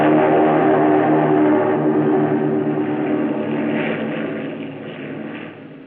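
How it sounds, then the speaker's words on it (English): A Japanese Zero fighter plane taking off down a runway, its propeller engine giving a loud, continuous droning roar that slowly fades over several seconds, with no voices. "that first Japanese Zero to be flown by an American sped down the runway and"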